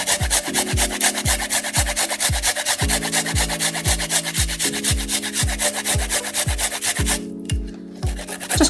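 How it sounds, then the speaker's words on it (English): Fresh ginger rubbed against a grater into a sauce: quick rhythmic scraping strokes, about two per second, close and fairly loud, with no voices. "grate the ginger into our sauce"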